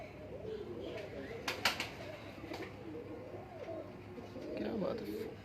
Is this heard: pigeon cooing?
yes